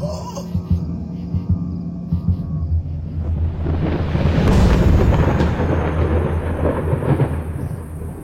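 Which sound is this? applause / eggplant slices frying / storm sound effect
storm sound effect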